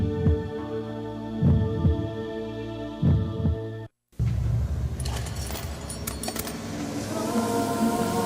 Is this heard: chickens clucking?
no